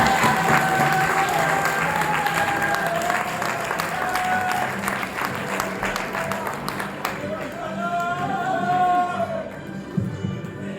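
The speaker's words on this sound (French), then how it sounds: "Je vous demande d'applaudir, s'il vous plaît, Johanna Alovanin." An audience at the final of an eloquence contest applauds in a long, sustained wave of clapping with some shouts and cheers, staying loud throughout before tapering slightly.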